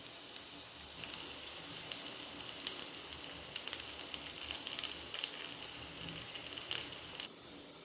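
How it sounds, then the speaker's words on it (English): Onions sautéing in hot oil with crackling mustard seeds for namkeen vermicelli, a steady bright sizzle with scattered pops and crackles, close up, ending abruptly. "Once the mustard seeds crackle, it's time to add the onions and saute."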